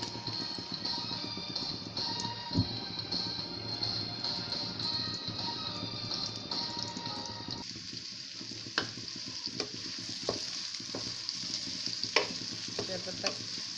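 Onions frying in hot oil for a thar sabzi, a close, steady sizzle with spatula scrapes and knocks against the pan recurring throughout, no voices.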